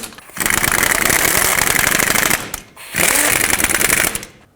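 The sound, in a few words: tightening wheel hub bearing mounting nuts on Ford F-250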